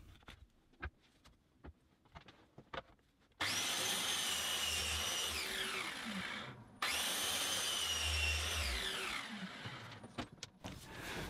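A cheap track saw cuts a 16mm strip along a long DIY guide rail. The loud, steady motor whine and cutting noise run for several seconds, break briefly, then resume after quiet handling sounds.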